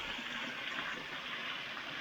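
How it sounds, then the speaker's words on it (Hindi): Water streams across a road at a hill-country water crossing near Vattakanal, a continuous, even rushing hiss at moderate distance with no pauses. "ये देखो अब आ गई एक वाटर क्रॉसिंग। तो गाइस ये देखो ये पानी बह रहा है वहाँ से"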